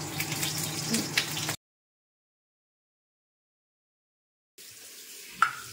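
Vegetables and a fish fry sizzle in pans on a home kitchen stove alongside boiling chowmein, giving a steady close hiss for about a second and a half, then silence, then a softer sizzle with one sharp clink.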